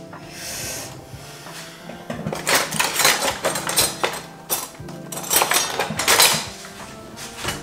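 Kitchen utensils clatter during a self-care routine, a chopping board being set down and a knife handled with dishware: a run of close, sharp knocks, clinks and scrapes that rise to a busy burst of clattering.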